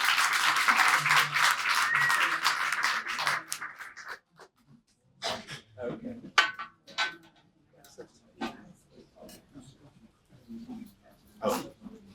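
Audience applause after a live music session, loud and dense for about four seconds before thinning to scattered claps amid quiet murmurs and breathing.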